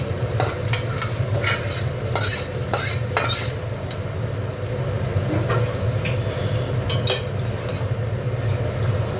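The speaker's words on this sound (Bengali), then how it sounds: "এবার মটরটা ঢেলে দেবো।" Green peas tipped into a hot pan of spiced ghugni base and stirred, giving a steady close sizzle with repeated scraping and clinking spoon strokes throughout.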